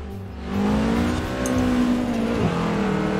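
A Volkswagen Golf's engine revs hard as the car accelerates in Forza Horizon 4, a loud, rising drone that climbs steadily, with a brief dip around a gear change before pulling again, and no talking over it.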